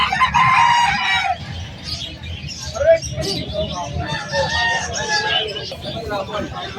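Fighting gamecocks at Malabon pet market crowing and clucking loudly nearby, several overlapping calls against busy market noise and people talking.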